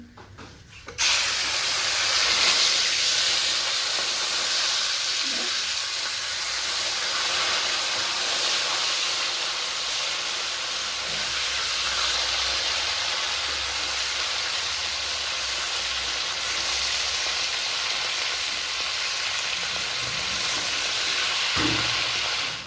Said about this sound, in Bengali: ফোড়ন দেওয়া হয়ে গেছে, এবার শোল মাছটা সাঁতলিয়ে নেবো।